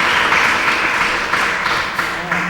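A conference audience claps in a steady round of applause, dense and fairly loud throughout, with a faint voice briefly audible beneath it.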